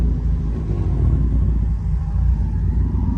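Turbocharged Honda S2000 drift car at a track, its engine rumbling steadily and close up for a few seconds, a heavy low drone with no revving peaks and no voices.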